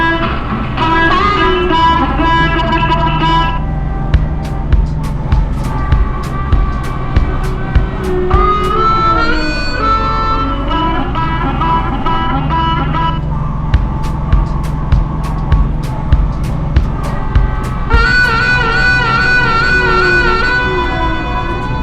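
A Kubota B2650 compact tractor plowing snow in Alaska, its engine a loud, steady drone heard from inside the cab, with regular light clicks and rattles running through it throughout.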